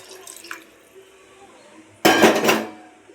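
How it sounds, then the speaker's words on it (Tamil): Three cups of water pour into a pressure cooker of rice for mushroom biryani: a few soft kitchen clinks, then a loud, close splashing gush lasting under a second, with no talk. "நல்லா தண்ணி ஊற்றிட்டு"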